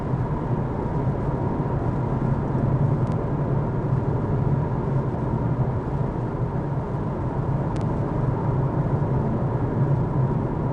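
Steady, loud road and tyre roar fills the cabin of a Lexus UX 300e electric car while driving, a continuous broadband rumble with no talking.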